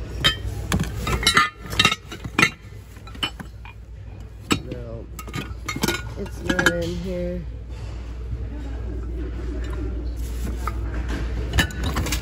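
Glass items clink and knock together as hands sort through Goodwill thrift store bins, producing scattered sharp chinks and rattles, near and moderately loud, with people talking throughout.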